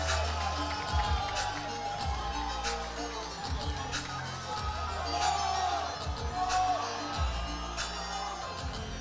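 A crowd at an IPF powerlifting meet in Sheffield cheers and chants for lifter Jesus Olivares after he calls for support. The noise swells in steady rhythmic waves, loud and diffuse like a packed hall, with shouts mixed in throughout.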